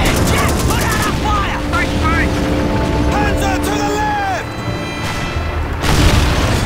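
A tank battle in the Call of Duty 2 mission "88 Ridge", with booming explosions and bursts of gunfire. Shouting voices cut in and out over a constant rumble, and a heavy blast lands near the end.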